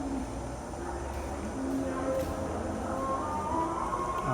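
A long, crowded Bangladesh Railway passenger train sits at a station in Sylhet before Eid, giving off a low, steady rumble with faint tonal squeals and background commotion.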